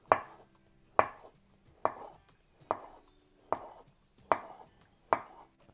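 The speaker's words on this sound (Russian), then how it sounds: "И нарезаю примерно вот такими вот кусочками." A knife chops through avocado on a board in seven evenly spaced strokes, each a crisp thud followed by a short scrape.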